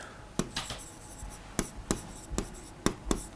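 Chalk or marker strokes on a board during a lecture: a run of short, sharp scratchy taps in an irregular rhythm, close and fairly quiet, with no talk over them.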